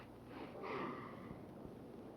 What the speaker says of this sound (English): will you stop sniffling the flowers